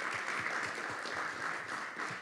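Applause for the speakers at a workshop, a fairly faint, even patter of many hands clapping in a room, steady and continuous throughout with no talk.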